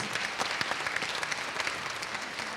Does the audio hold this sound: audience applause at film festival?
yes